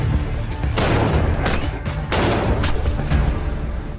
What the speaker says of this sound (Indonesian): Pada awalnya, Ye-jae terkena tembakan